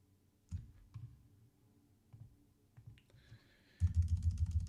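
A computer keyboard clicks as typed text is deleted in a document, a few scattered soft key taps followed by a quick, louder burst of rapid repeated presses at the end.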